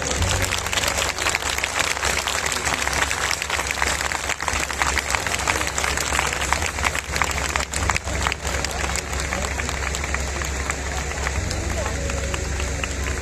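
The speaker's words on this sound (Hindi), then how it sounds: "गड़गड़ाहट वाली तालियों के साथ इनका हौसला होना चाहिए" Thunderous applause from a large audience at a Khatu Shyam bhajan event, dense continuous clapping with crowd noise sustained steadily for the whole stretch, loud and close.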